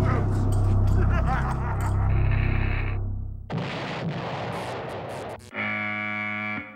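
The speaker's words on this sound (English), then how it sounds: "There's been an explosion." An explosion strikes at the generators in a film scene, a loud distorted low rumble for about three seconds that gives way to harsh crackling and then a buzzing tone.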